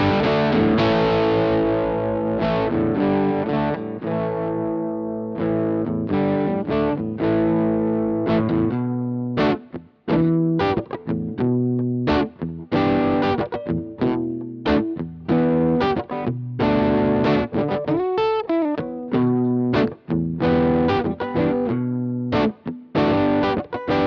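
A Bohemian BOHO guitar, a surf-style instrument, plays through the overdrive channel of a PV Classic 20 amp: loud, continuous distorted chords and riffs with a busier strummed passage midway, and no talking.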